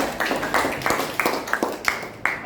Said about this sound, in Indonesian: Oke, sudah, tepuk tangan dulu.